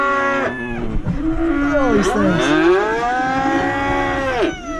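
Cattle on a farm bellow and moo loudly and close by, with long overlapping calls filling the whole clip, while someone says a few words over them.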